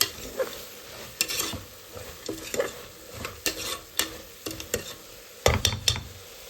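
Food sizzles in hot oil in a home kitchen while a utensil stirs and scrapes the pan in uneven, sharp bursts over a steady frying hiss, close and fairly loud, with no talking.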